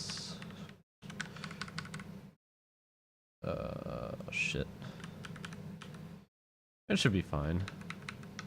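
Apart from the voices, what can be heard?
typing notes on a computer keyboard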